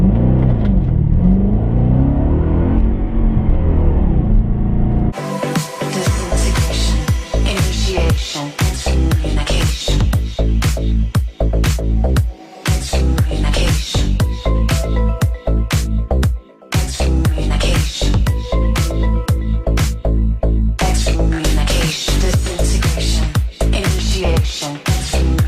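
An Audi S4 4.2 launches from a standing start, its engine roaring loud and close after a brief idle, with hard revs rising and sharp breaks at each gear change.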